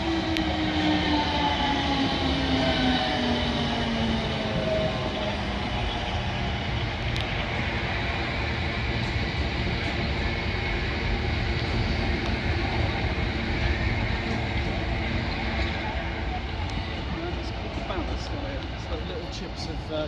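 South Western Railway train passing Raynes Park station on the South West Main Line, a loud steady rumble of wheels and motors with whining tones sweeping downward early on, while someone talks over it.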